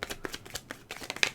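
A tarot card deck is shuffled close by, quick papery riffles and flicks coming in a series of soft bursts with no talking.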